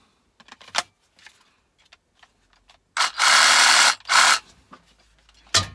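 An Evolution cordless reciprocating saw makes two loud, harsh bursts of cutting, about a second and then half a second, set among scattered clicks and handling knocks, with another brief burst at the very end.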